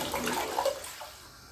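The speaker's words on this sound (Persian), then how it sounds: "آبش رو از صافی ریز رد میکنم" Water drained from soaked wheat sprouts pours through a fine sieve, a close, steady splashing trickle that thins out and fades toward the end.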